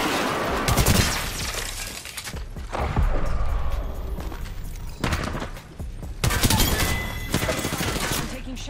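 Bursts of gunfire in the battle royale shooter Apex Legends come in several loud, dense volleys separated by short lulls, with booming impacts and mechanical clatter throughout.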